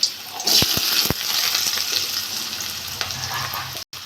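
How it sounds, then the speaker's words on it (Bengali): Potatoes fry in hot mustard oil in a kadai for aloo matar ghugni, a loud continuous sizzle with a few sharp knocks of a utensil early on. "আমি এবার সর্ষের তেল দিয়ে দেবো আলুগুলো ভেজে নেবো তেলটা গরম হয়ে গেছে"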